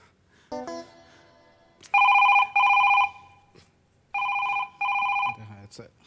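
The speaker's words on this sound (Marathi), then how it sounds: "बाबा आईचा हा आईचा फोन आला" A telephone rings loudly in two pairs of double trills, with a short pause between pairs and brief bits of voice before and after.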